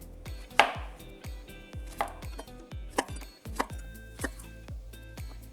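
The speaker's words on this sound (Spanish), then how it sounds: "Seguimos con 2 zucchinis medianos, a los que también voy a cortar en bastoncitos." A knife chops two medium zucchini into sticks on a cutting board, with about nine sharp, evenly spaced thuds sounding close and alone.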